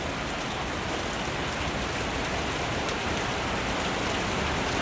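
Heavy rain pours down in a dense, constant roar of drops hitting surfaces, loud and steady throughout with no voices.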